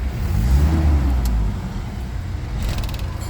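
A Mitsubishi Adventure engine started with the key: a loud low rumble swells, then settles into a steady close idle, with a few brief clicks near the end.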